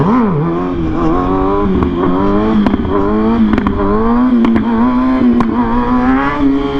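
A 600cc sport motorcycle engine revs near and loud throughout, its pitch rising and falling steadily, with brief crackles and clatter at intervals.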